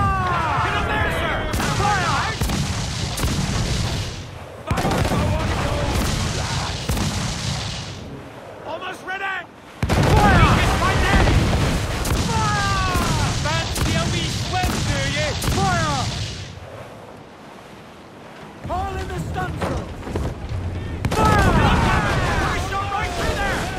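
Heavy ship cannons fire in repeated booming broadsides during a naval battle in Assassin's Creed IV Black Flag, with quieter gaps between volleys and shouting crew voices.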